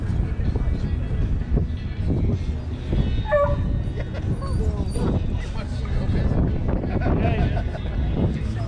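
A dog barking and whimpering at an outdoor cars and coffee show in Las Vegas, with short yips and whines over steady wind noise and crowd murmur.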